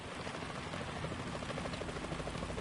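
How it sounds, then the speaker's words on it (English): A helicopter's rotor in the video game Metal Gear Solid 2 drones steadily at a distance, a low, even churning with no voices. "Is that a chopper I just heard?"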